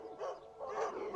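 Young dogs from a recent litter giving short yips and whimpering barks nearby, a few overlapping high calls at fairly low volume.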